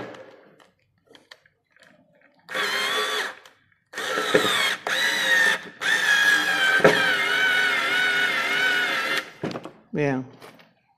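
Daewoo 3.6 volt cordless lithium screwdriver driving a screw into hard wood, several whirring bursts of a few seconds each, close and loud, with a person talking in between.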